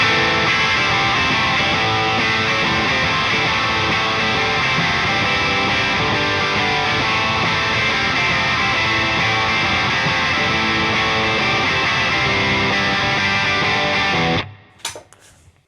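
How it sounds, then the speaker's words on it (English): An electric guitar plays through a Hiwatt amp with an Echo Drive and a compressor, a dense, loud, sustained distorted wash that holds for about fourteen seconds and then cuts off abruptly. "that's now just the Hiwatt with all the effects"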